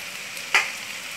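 Rice cooked earlier is tossed into a pan of stir-fried vegetables and sauces for Chinese fried rice, giving a single quick sizzling scrape in the middle of a soft, steady kitchen hiss.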